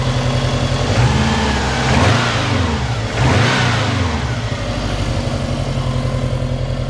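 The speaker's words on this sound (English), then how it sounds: "Here's a couple of revs." Subaru Impreza GC8 engine, home-built and running a little rough, revved a couple of times: close, loud rising and falling engine roars over a steady idle that never drops away.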